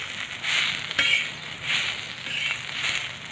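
Onion stirred and roasting in a pan over a village wood-fired chulha, a steady crackling sizzle with gentle scraping sweeps rising and falling, fairly close.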